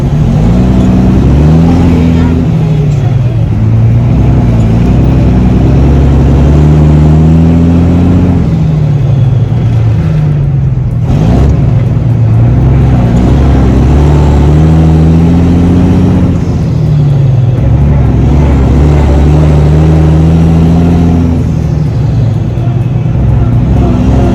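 Engine drone of a truck named Goliath driving eastbound on the I-10 highway, a loud, steady hum with rising and falling pitch as it changes speed, heard close throughout.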